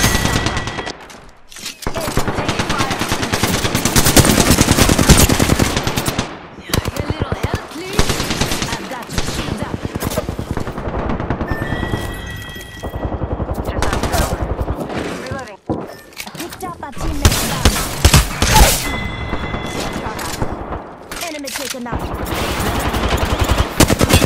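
Sustained automatic gunfire in the Apex Legends battle royale game, dense rapid bursts and impacts filling most of the span with short pauses, loud and close, with in-game voice lines underneath.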